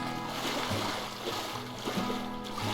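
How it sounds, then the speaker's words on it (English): In-game soldier in Squad running through shallow water, a steady stream of splashing footsteps close by with a continuous watery churn throughout. "I'm going to go out in the water and run in some water."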